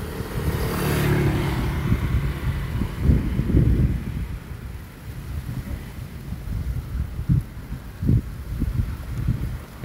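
Strong gusty wind buffeting a microphone outdoors while a DJI Mini 4 Pro drone is flown at altitude, loud rumbling surges that swell and fade unevenly, with no voices.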